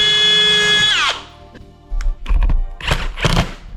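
A power drill whines as it drives a screw into a plywood kitchen cabinet, winding down after about a second, followed by several sharp knocks and clunks of handling close by.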